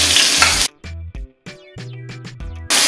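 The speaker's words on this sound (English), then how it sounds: "So I'm gonna let this saute for about a minute to release all of those flavors." Garlic, pepper, onions and thyme sauté in a pan for a vegetarian ackee dish, a loud broadband sizzle at the start and end with quieter clinks and stirring sounds between.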